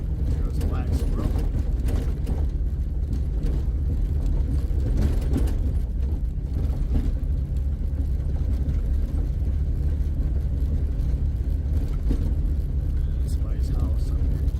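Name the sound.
2001 Jeep TJ engine driving in third gear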